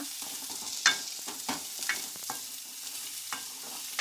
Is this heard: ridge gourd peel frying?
yes